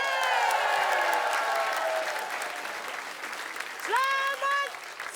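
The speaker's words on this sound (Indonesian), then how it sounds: "Tepuk tangan dong buat Padat Karya." Audience applause in a comedy TV studio, a steady wash of clapping at moderate level that tapers off, with a brief synth-like tonal sting near the end.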